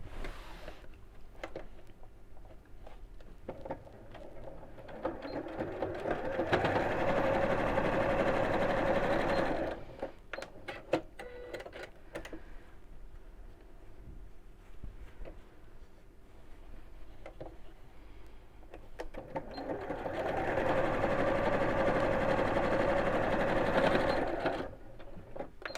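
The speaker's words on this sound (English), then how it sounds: "we'll just sew across these lines" A sewing machine stitches straight lines across fabric for a storage box, running in two long steady bursts with a quiet pause of small handling clicks between them, close and alone with no talk.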